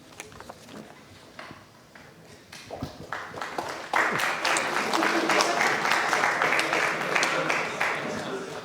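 Applause from an audience at an academic talk on Western Desert culture, starting with scattered claps and swelling to a dense, steady round of clapping that fades slightly at the end.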